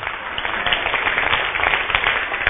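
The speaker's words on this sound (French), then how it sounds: "Lève-toi, applaudis Dieu" Church congregation applauding God during a prophet's sermon, a dense, steady wash of clapping filling the room, loud and continuous with faint voices mixed in.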